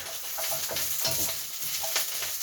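Corn being stirred in a hot pan, with a steady sizzle of frying running throughout and repeated scraping strokes of the spoon at a quick, uneven rhythm, close and fairly loud.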